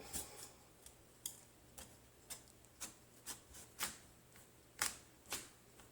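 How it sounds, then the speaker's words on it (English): A knife works slowly into a home-grown squash, making a steady series of about a dozen crisp, close scraping cuts at an even rhythm, soft overall. "Alright, so I'm just going to try to cut into it."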